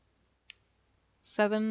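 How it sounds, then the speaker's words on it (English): A single sharp key click from a computer keyboard while building a house in The Sims 3, alone and fairly close, followed at once by the start of a voice. "So just press the letter end on your keyboard."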